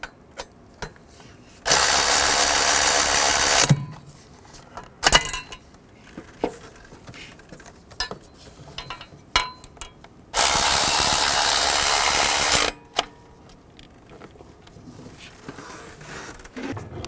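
Ratchet wrench tightening bolts during a water pump replacement on a 2010-2017 Chevrolet Equinox, two loud, close bursts of rapid clicking about two seconds each, separated by quieter clinks and tool handling.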